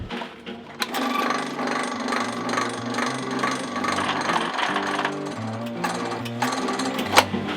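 A restored drill press runs at its slow speed, a steady mechanical drone with a rhythmic, shifting low hum and a few small clanks, continuous and fairly close with no talk.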